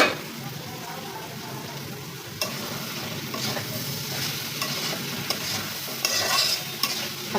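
Small Rangpur potatoes are sautéed in a pan with dried fish: a steady, close sizzle runs throughout, broken by occasional sharp clicks of a spoon against the pan.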